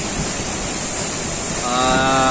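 A waterfall about 15 metres high at Langkuik Tinggi in West Sumatra roars as a constant broadband rush of falling water, loud and close, with a faint tonal hum rising near the end.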